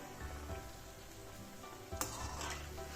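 Coriander vadi frying in oil in a pan, a steady close sizzle with a brief clink of a utensil against the pan partway through.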